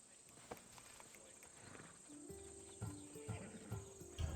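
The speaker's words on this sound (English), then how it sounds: "Horse on the left." A horse in Assassin's Creed Odyssey, quiet hoof clops and movement with a faint snort, then a few heavier steps toward the end, low in level with some voices.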